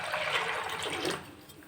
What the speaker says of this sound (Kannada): ಮುಳುಗೋವಷ್ಟು ನೀರು ಹಾಕಿ